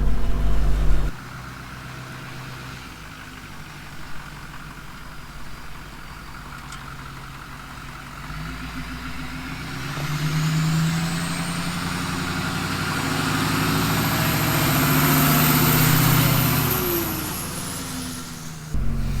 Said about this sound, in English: but it's idling really good